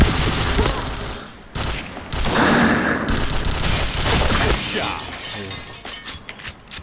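Rapid, loud gunfire from the shooter game Point Blank fires in dense bursts with shattering, crackling impacts, then thins into scattered sharper shots near the end.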